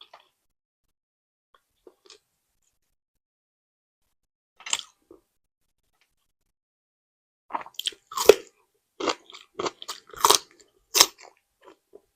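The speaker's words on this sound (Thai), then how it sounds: "ต้นหอมกัดต้นหอมจ้ะ" Crisp, crunchy bites of raw spring onion, first a few sparse faint crunches, then a denser run of loud, close chewing crunches toward the end, with quiet gaps and no talk.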